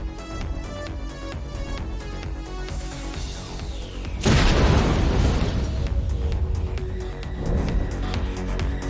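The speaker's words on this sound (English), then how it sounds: "The rocket exploded at point-blank range." A rocket explodes at point-blank range in The Blind Prophet video game: after a tense droning musical buildup, a sudden loud, rumbling boom bursts in and lingers as a dense roar beneath continuing music.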